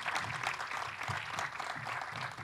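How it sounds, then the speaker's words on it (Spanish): A crowd applauds steadily, many hands clapping together in a dense, continuous wash of sound. "Con este aplauso de agradecimiento y de estímulo también para este desafío"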